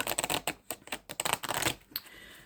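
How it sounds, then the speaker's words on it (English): Tarot cards are shuffled by hand in quick bursts of crisp riffling and soft flicks, close but quiet, with short pauses between shuffles. "so we'll start by shuffling."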